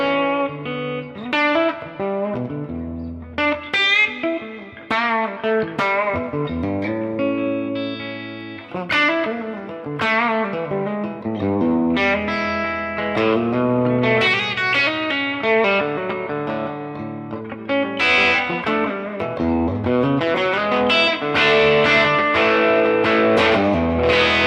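An electric guitar runs through the cab block of a Fractal unit with room reverb added, playing distorted, effected chords and single notes in a steady, melodic phrase with a spacious reverberant tail, and no speech.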